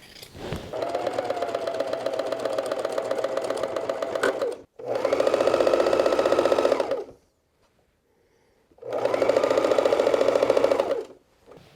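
A sewing machine stitching reindeer skin parka pockets together, running in three bursts of rapid, even mechanical clatter, about four, two and a half, and two and a half seconds long, separated by short pauses, loud and close.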